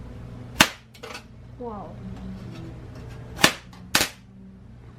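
Capacitors charged from six 9-volt batteries discharge onto aluminum foil, each contact giving a sharp, loud spark snap. Three distinct cracks come over a few seconds, with a fainter pop in between, and a voice briefly exclaims.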